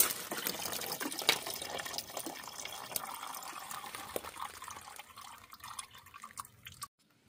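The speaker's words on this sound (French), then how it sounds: "j'avais un vieux liquide de refroidissement, donc je l'utilise pour rincer" Old coolant poured into the cooling circuit of a VAG 1.5 TSI engine to flush it: a steady close splashing trickle with drips that thins out before ending abruptly.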